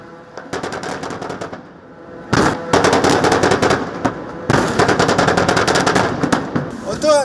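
Naval ship guns fire in rapid bursts during a live-fire anti-ship drill at sea, loud repeated volleys of sharp cracks with brief pauses between them.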